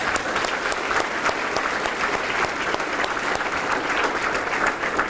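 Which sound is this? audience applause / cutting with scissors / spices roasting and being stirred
audience applause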